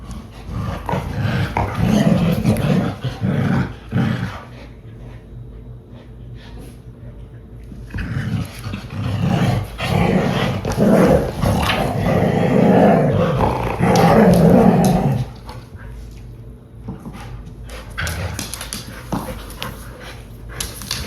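Dogs play-fight with intermittent growls, panting and the odd whimper over about twenty seconds, the rough, throaty noises rising and falling in bursts with a few short pauses between them.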